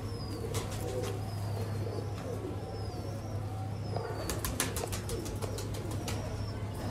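Sialkoti pigeons coo in a low, steady drone, with a few clicks, chirps and brief wing flutters over a constant background hum.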